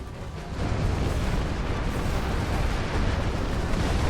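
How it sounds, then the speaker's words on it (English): Torpedoes firing and exploding in the space combat game Star Trek Online, a loud sustained roaring blast that swells after a brief quieter start and rumbles on without letting up, no voices. "Fire off the torpedoes."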